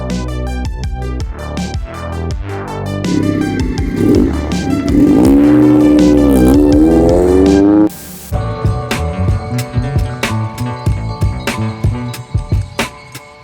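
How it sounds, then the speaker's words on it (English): A 1974 Alfa Romeo GTV 2000 with a 2-liter engine revving hard uphill and climbing in pitch through the gears, loud and close, then dropping to a lower uneven idle with clattering. "So this is a 1974 Alfa Romeo GTV 2000."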